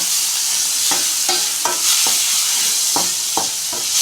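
Tomato rice mixture being stirred in a hot pan, with a steady bright sizzle underneath and a series of distinct scraping strokes from the spoon at irregular intervals, close and clear with no talking.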